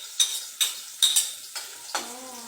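Browned onion sizzles in a frying pan as garlic is added, with a handful of sharp spoon-on-pan clinks and a soft ongoing sizzle.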